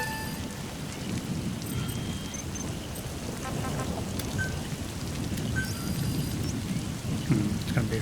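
Rain and thunderstorm in the Metal Gear Solid V: The Phantom Pain video game, steady heavy rainfall with rolling low thunder rumbling underneath, dense and continuous with scattered brief clicks and beeps over it.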